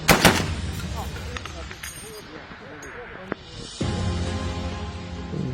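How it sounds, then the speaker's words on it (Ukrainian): A sharp, loud sniper rifle shot at a target 2.5 km away bursts out at the start, followed by murmuring voices and a rumbling background with a couple of smaller thumps. "Постріл!"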